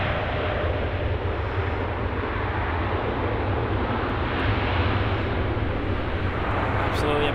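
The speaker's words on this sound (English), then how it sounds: "Touching down there on runway 24 right from Seoul, OZ204" Airliner OZ204 arriving from Seoul touches down on runway 24 right at Los Angeles airport, a steady loud broadband jet roar filling the scene throughout.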